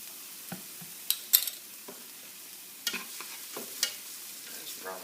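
Garlic browns in a pan for ground beef gravy, with a soft sizzle under a few sharp scrapes and clicks of a utensil stirring at irregular moments, close and fairly quiet.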